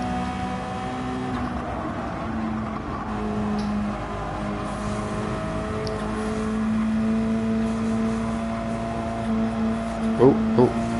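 Racing car engine in a sim racing game, a steady sustained drone with shifting pitch throughout, rising slightly in the second half, with a few brief sharper bursts near the end; a voice is faintly present underneath.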